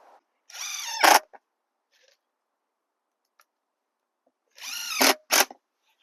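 A power drill drives screws into a glued wooden wheelbarrow in two short close bursts, each a rising whine ending in a sharp grinding spike, separated by near silence.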